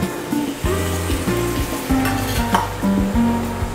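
Half a tumbler of water hits a pan of brinjal and potato curry, setting off a loud, steady sizzle with stirring and scraping, close up and with no voices.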